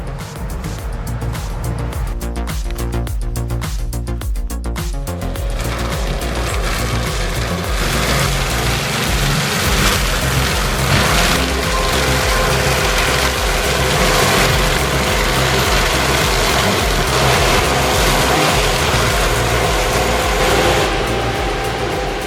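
A Kenworth W9 log truck grinds under a heavy load of white pine on a rutted clay road. The big diesel engine roars loud and sustained, with a rough, labouring drone.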